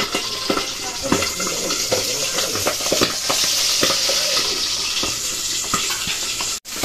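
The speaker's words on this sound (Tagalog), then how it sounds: "nagpiprito na po ng ating karning baboy" Pork sizzles and crackles steadily in a hot pan, with a hissing wash of frying and occasional pops and stirring clatter.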